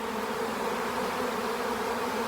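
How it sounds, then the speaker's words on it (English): Honeybees being moved into a new hive box give off a dense, steady buzzing hum, close and continuous, with no voices. "look how calm these lovely nurse bees are"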